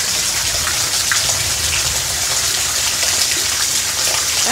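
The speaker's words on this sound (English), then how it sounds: "Guys, look how much rain." Heavy rain pours steadily on a chilly day, a dense continuous hiss with scattered drips and splashes close by, unbroken for the whole stretch and with no voices.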